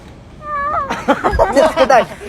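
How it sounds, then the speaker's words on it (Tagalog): A cat gives one short, rising-and-falling meow, followed right away by loud, lively human voices talking over it. "Pusa!"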